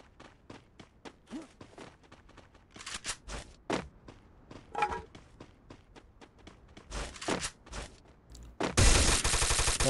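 Free Fire mobile game gunfire: rapid bursts of shots and single cracks mixed with quick footsteps, ending in a loud sustained volley of automatic fire.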